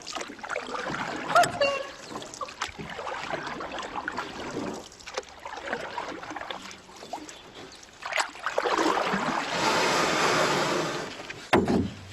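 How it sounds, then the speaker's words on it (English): Water sound effect of waves and splashing from an old amateur production, an uneven wash of surging, trickling water that swells louder near the end, with brief bursts of other noise mixed in. "What was that? this water sound."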